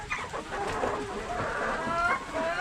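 Hybrid laying hens on a farm in Rayong, Thailand cluck and cackle in a busy, overlapping chorus, fairly close and loud, with no talk over them.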